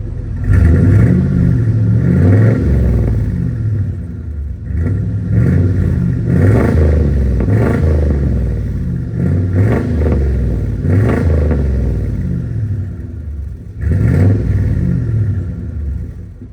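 An 8.1 big block V8 revving through a freshly welded, repaired exhaust with mufflers fitted, loud deep rumbling blips that rise and fall in repeated pulses, close and continuous.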